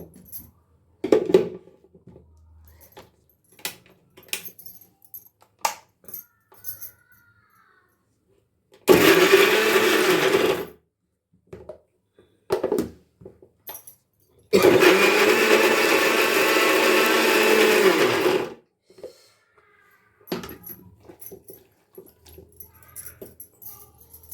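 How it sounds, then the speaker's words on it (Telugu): Mixer grinder blending puffed rice with onion and green chilli into a spice mix, two loud whirring bursts of about two and four seconds, separated and surrounded by quieter clicks and handling noises. "దీన్ని గ్రైండ్ చేసుకుంటున్నాను"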